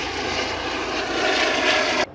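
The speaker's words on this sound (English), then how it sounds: "Is this helicopter that's gonna fly over me white or red?" Aircraft flying overhead in Rome, a steady broadband engine roar holding loud for about two seconds before cutting off abruptly.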